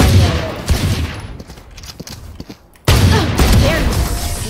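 Gunfire in a shooting video game, dense bursts of rapid shots rattling loudly for most of the stretch, with a brief quieter lull in the middle before heavy firing resumes.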